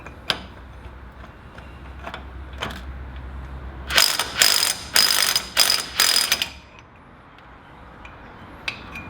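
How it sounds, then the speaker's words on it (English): A ratchet on a Land Cruiser 80 bearing preload nut clicks in a quick burst of several loud, close ratcheting strokes, with a few sparse metallic taps before and after. "And then remove the bearing preload nut."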